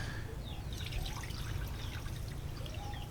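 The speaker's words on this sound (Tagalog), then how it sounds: "Binabanlawan natin dalawang bisis." Water trickles and pours while laundry is rinsed by hand, a soft steady splashing with small drips, close and fairly quiet.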